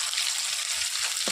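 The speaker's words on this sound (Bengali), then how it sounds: "জিরে ফোড়ন দিয়ে এবার রসুনটা আগে দিয়ে দিই আমি" Garlic goes into hot oil with a cumin tempering and sizzles loudly and steadily close by, a continuous frying hiss with a faint stirring scrape near the end and no talking.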